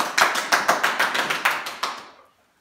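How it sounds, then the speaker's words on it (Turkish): Rhythmic clapping from a small audience at a Turkish folk singing performance, about ten sharp, evenly spaced claps that fade out near the end. "Alkış!"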